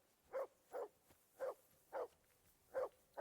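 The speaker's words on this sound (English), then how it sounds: "barking was a pain in the ass" A dog barks in the medieval video game Kingdom Come: Deliverance 2, six or seven evenly spaced barks at a steady rhythm, moderately distant and fairly quiet, with no talk.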